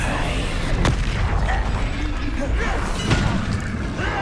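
Spell impacts and blasts from fire and explosion spells burst out in Hogwarts Legacy combat, with a couple of sharp booming hits over rumbling game sound, while a player calls out spell names.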